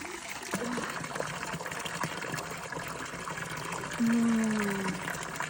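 Spring water running into a bottle at an outdoor spot in Switzerland, a steady trickle and gush throughout, with the filling tone rising near the end as the bottle fills.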